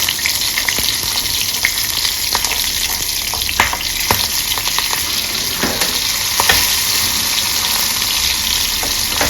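Cumin seeds and slit green chillies sizzle loudly in hot oil for a tempering, a dense close crackle broken by a few sharp pops and stirring scrapes, with no voices.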